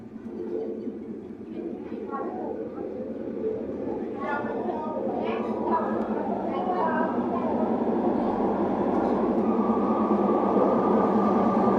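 A train rolls along the rails with a steady low rumble, while people talk and chatter in the background throughout, on a ride from Ban Laem to Maeklong in Thailand.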